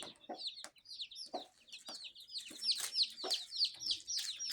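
Several chickens cluck in quick, uneven bursts nearby, a busy overlapping chatter of short calls with no talking.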